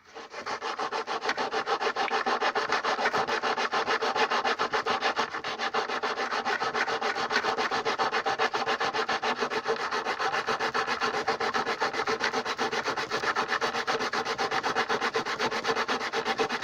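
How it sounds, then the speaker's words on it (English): Sandpaper rubs wooden wing ribs in a continuous close scratching, with fast back-and-forth strokes and no pauses or talk. "Sandpaper again."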